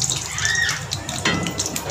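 Salted water pours from a container into a pot of cumin seeds being cooked for rice, a short steady splashing stream lasting about two seconds.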